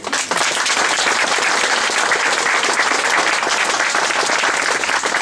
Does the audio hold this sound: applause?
yes